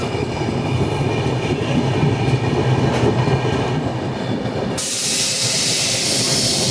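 The Mumbai Varanasi Mahanagari Express passes close by, a loud continuous rumble and rattle of wagons rolling over the rails, ending in a sudden bright rushing hiss as the train sweeps past.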